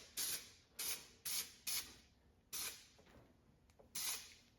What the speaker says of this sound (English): So I'm just gonna spray just like this.